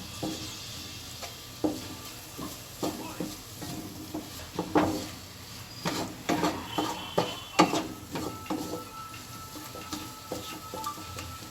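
Tomato masala with coriander and garam masala simmering and frying in a pan, a soft sizzle broken by repeated stirring scrapes and clinks of a spoon against the pan, close and moderately loud, with no talking.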